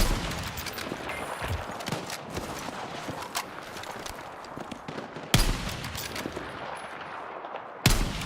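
Dense Battlefield 6 gunfire: rapid automatic bursts and scattered shots rattle continuously, with two louder sharp blasts standing out near the end.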